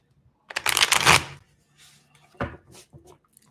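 A deck of cards is shuffled up close, with a long riffling burst followed by a shorter second riffle and a few light taps amid quiet.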